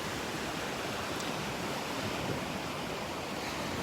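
Ocean surf breaks steadily on a Gulf beach at Delnor-Wiggins, a continuous broad wash of waves with faint wind, no talk.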